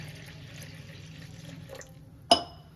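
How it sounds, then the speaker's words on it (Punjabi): Cold water pours from a tap or jug into a pot of freshly separated ghee, a steady low splash running throughout, ending in a sharp clink near the end. "ਇਹਦੇ ਵਿੱਚ ਆਪਾਂ ਇਹ ਵਾਲਾ ਪਾਣੀ ਪਾ ਦਿੰਨਾ ਠੰਡਾ"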